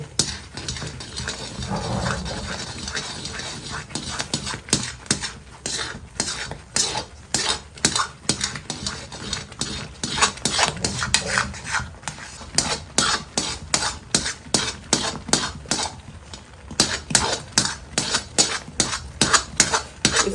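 Kada prashad being stirred and roasted in ghee in a pan: repeated close scraping strokes of a spoon against metal, loose at first, then quicker and more regular toward the end, over a soft sizzle.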